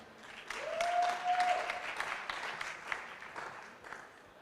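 An audience at a startup pitch event claps as the first startup, Codejet, comes onto the stage, a moderate, steady wash of applause that swells in the first second and gradually thins, with a brief whistle-like tone early on.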